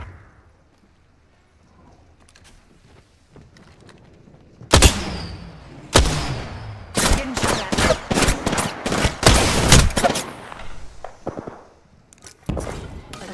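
Apex Legends gameplay erupts in gunfire, with quiet near-silence giving way to loud bursts of rapid automatic shots and single cracks that come in dense clusters with short gaps.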